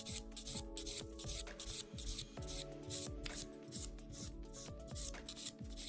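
A file works a long acrylic nail, beveling it down toward the tip in quick, steady, close rasping strokes that repeat in an even rhythm.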